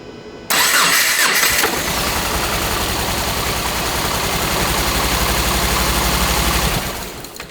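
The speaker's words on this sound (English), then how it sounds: "we're gonna try next startup" A Subaru Crosstrek engine with a motor issue cranks briefly and catches, then settles into a steady, rough idle nearby before fading slightly at the end.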